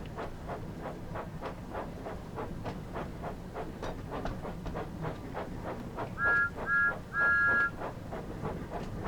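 Thomas the Tank Engine runs along the West Somerset Railway in Train Sim World 5, with a rhythmic chuffing beat throughout. Three short whistle toots come near the end, and no one speaks.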